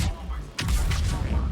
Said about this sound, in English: biotic explosions are fun